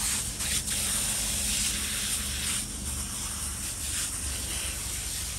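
A steady, loud hiss of spraying water rinses the cover of a fish pond filter, continuous and close throughout with slight shifts in intensity.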